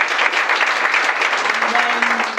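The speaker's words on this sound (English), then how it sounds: "So big round of applause for Millicent." A crowd claps continuously, a dense burst of applause with a few faint voices mixed in, steady throughout.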